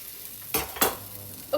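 Red onion frying in a pan, a soft continuous sizzle with two sharp scraping stirs in the middle and another brief scrape at the end, no voices.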